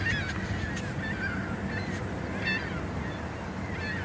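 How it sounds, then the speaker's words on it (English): A goose nesting on a street corner near a plaza and main road honks in repeated harsh calls over a steady roar of traffic. "there is a goose laying eggs here on the corner"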